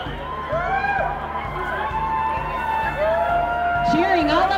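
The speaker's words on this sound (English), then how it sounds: "cheering all up and down the creek." A crowd cheers and whoops up and down a creek at a Rotary rubber duck race, with a steady rhythmic thumping beat underneath and scattered shouts rising over a continuous outdoor din.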